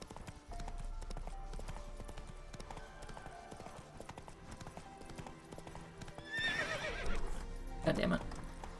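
Roach, a horse in The Witcher 3, gallops with a steady clip-clop of hooves in the game world, then gives a sharp whinny near the end over a low ambient bed.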